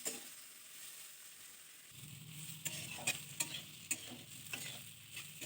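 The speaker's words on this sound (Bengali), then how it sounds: "লাল লাল করে ভাজা নিচ্ছি" Flat beans and potatoes fry in a pan, a soft sizzle that grows fuller after a moment, with repeated scraping and clinking strokes as they are stirred nearby.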